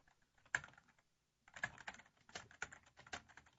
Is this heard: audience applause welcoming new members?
no